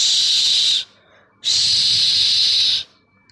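Two long, loud hisses from a snake, each close and sustained for over a second, separated by a short quiet gap.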